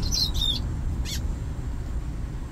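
A bullfinch riding in a moving car gives a few short chirps, then a brief squawky call, loud and close over the low road rumble of the car.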